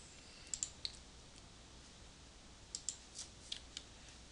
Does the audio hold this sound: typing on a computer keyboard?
yes